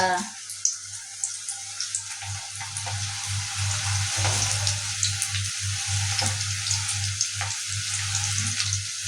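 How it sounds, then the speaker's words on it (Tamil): Onion pakoda fries in hot oil with a steady, close, hissing sizzle and a low background hum, accompanied by occasional light stirring clinks, with no talking. "வெங்காய பகோடா பாருங்க. வேகட்டும் வேகட்டும்."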